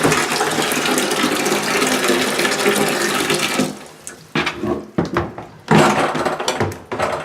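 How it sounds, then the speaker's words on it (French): A toilet tank with a water-saving fitting refills after a flush on a building's 2-inch, 45 PSI water supply. Loud rushing water runs steadily, then drops into quieter gurgling and trickling with intermittent surges near the end. "25 secondes avec économiseur d'eau, c'est un bon temps pour le remplissage"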